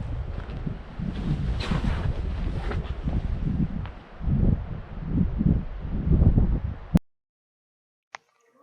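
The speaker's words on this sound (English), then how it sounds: "the wind is actually pushing my bike" Strong wind roaring against a motorcycle rider on a Nepal mountain trip, loud gusty buffeting that surges and dips, then cuts off abruptly into near silence with a single faint click.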